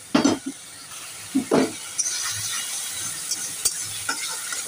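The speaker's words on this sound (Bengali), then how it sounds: "কাঁচা লঙ্কা কড়াতে দিয়ে দিয়েছি" Green chillies frying in oil in a wok, giving a steady sizzling hiss broken by a few short scraping bursts of stirring near the start and occasional light clinks; close and moderately loud, with no talking.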